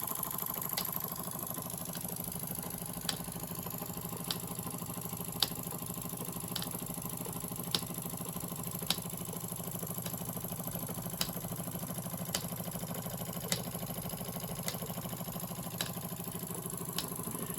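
A Jensen #100 toy steam engine runs steadily, a quiet continuous mechanical whir and patter with small regular clicks ticking through it, faint and alone.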